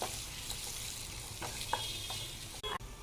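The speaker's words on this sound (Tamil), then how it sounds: "turmeric powder, red chilli, garam masala எல்லாமே நல்லா வதக்கி விடுங்க" Ginger garlic paste with turmeric, red chilli and garam masala sautéing for a paneer butter masala, a steady soft sizzle with light stirring scrapes, fairly faint and close, with no talk.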